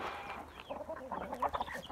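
Chickens cluck in a rapid, chattering run of short calls while being fed their evening meal in a backyard coop. The calls are fairly faint and close, growing busier toward the end.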